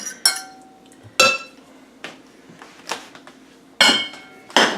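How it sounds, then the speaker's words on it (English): Sharp, ringing clanks of bowls knocked together, about six irregular hits close by, with a faint kitchen hum between them. "I'm banging bowls all over the place."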